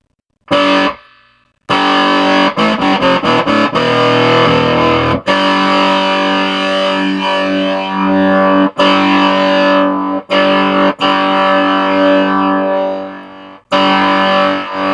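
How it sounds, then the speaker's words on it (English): A gated fuzz distortion effect on an electric guitar plays loud, buzzy chords and riffs that cut off abruptly into silence between phrases as the gate closes. "Now we got a gated fuzz."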